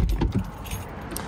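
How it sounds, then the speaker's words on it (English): Car keys jangle close up in a short burst of metallic clinks, several quick rattles over about a second. "Let me get my motherfucking keys so I don't lock myself out the car."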